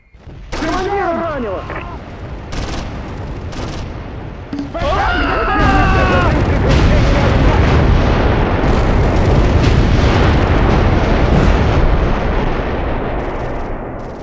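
A few synthetic tones and chirps give way to a loud, continuous rumbling roar of repeated blasts rocking an assembly hall in the game Close Combat 3: The Russian Front, at Stalingrad, sustaining heavily to the end.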